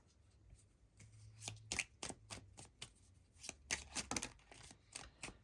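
Tarot cards being shuffled by hand give a quiet, close run of crisp riffling bursts and soft slaps in irregular clusters, with no talking.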